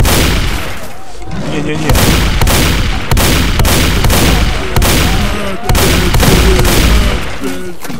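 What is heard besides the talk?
shotgun firing in the video game S.T.A.L.K.E.R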